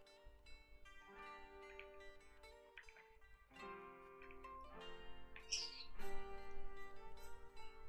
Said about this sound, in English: my bird is sleep talking